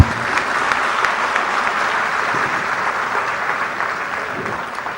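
A large audience at a women's initiative event applauds continuously, a loud, even roar of clapping with no break for the full stretch.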